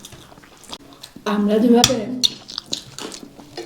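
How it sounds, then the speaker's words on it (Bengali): Someone eats hot rice with fried potatoes in the Darjeeling hills at Kaiyavir: soft chewing and faint utensil clinks beneath a person speaking, with a few moist smacks after the talk. "আমি একটু গরম ভাত আলু ভাজা দিয়ে খাচ্ছি"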